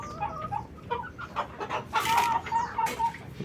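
Backyard chickens cluck in short, repeated bursts at close range, with some louder squawks mixed in over a steady farmyard background.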